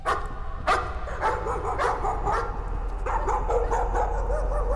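Dogs in the horror game Layers of Fear bark and yip in a repeated run of sharp, fairly loud calls over a low droning background.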